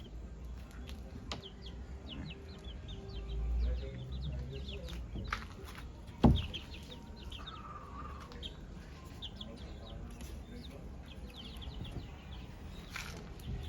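Chickens, about ten roosters in a coop with a sandy, part-screened floor, cluck and call intermittently at a moderate distance, with faint chirps, a soft background hum and one brief thump.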